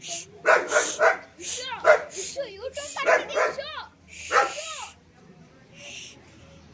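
A dog yips and whines in a series of short, high, rising calls, fairly close and loud, then trails off into quieter whimpers.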